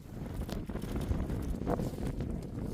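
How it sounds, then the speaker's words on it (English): Strong wind buffets the microphone in a steady, low roar with gusty swells, outdoors and close, with no voices. "And that's just how windy it is."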